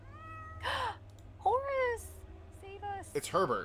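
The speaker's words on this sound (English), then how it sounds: "Oh, it's the cat!" A cat meows several times in the Victorian-era adventure game Hob's Barrow, short harmonic calls up close, interleaved with a character's voiced dialogue.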